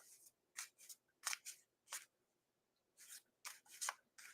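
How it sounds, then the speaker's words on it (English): A deck of tarot cards is shuffled by hand, a series of brisk riffling and sliding bursts with short pauses between them, close and crisp in a quiet room. "let me shuffle the cards for Kim, and we will draw 3 cards"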